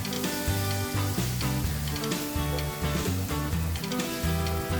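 Cubes of tofu are gently pushed back and forth in a hot wok of mapo tofu, a steady close sizzle running throughout beneath loud background music.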